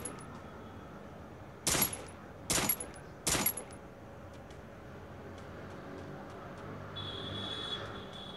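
Free Fire mobile game gunfire: three sharp, loud shots spaced about a second apart over a low background hum, followed by a faint electronic tone; no talk.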